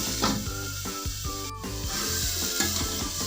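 Tomatoes being stirred with salt and turmeric in a pan, a close scraping and rubbing over a soft sizzle, with no talking.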